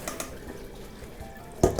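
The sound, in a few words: washing eggplants in water, then draining in colander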